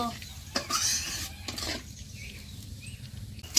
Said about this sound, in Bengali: মশলার জল দিছি, এখন আমি ভালো করে কষায় নিব।